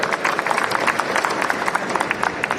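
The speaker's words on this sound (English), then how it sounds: "give a big round of applause for ICF Chennai" Dense, steady applause from a large audience at an ICF Chennai railway event celebrating the Vande Bharat train, many hands clapping together at a fairly loud level for the whole stretch.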